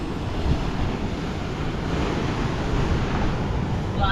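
Sea waves wash against the rocky shore at the Ratneshwar Mahadev coastal site in a continuous rushing surge, with gusty wind buffeting the microphone throughout.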